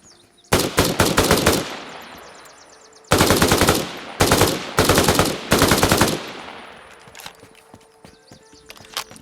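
An M4A1 rifle fires in the Arma Reforger video game through a weapons mod, loosing several rapid, loud automatic bursts separated by brief pauses, each followed by a fading echoing tail.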